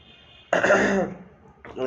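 A person with a cold clears their throat once and coughs, close and loud, a short harsh burst, then a brief pause and another rough sound begins.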